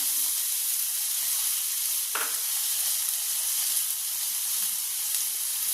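Chopped onion and green chilli sauté in a pan with an even, close hiss of frying, broken by one brief scrape of stirring partway through.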